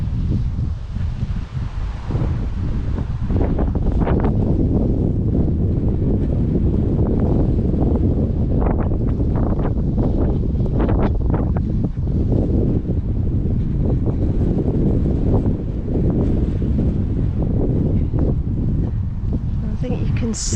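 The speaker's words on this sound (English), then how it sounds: "Quite a nice day, but just very windy." Strong wind buffets the microphone on a warm countryside walk near Gunby Hall, a steady loud roar with rustling gusts throughout.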